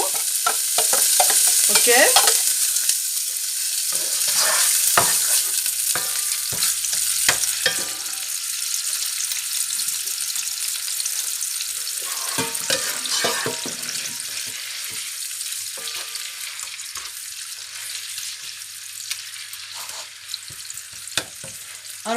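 Onions dropped into hot oil left over from frying fish, a loud burst of sizzling and stirring clatter that settles into a steady close crackle. A single brief word is spoken early on.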